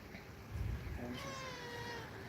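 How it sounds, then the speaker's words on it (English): A cat meows once, faintly, under a low background hum, followed by a thin, drawn-out tonal sound. "Let him meow."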